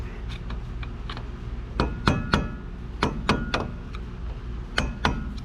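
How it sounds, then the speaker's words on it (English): Light metallic taps on the wheel hub cap of a 1998 Mazda B4000, struck with a tool to pry it open: about a dozen sharp clinks in irregular bursts, close and fairly loud, with no one talking. "You can use just a little tap, just enough to open it."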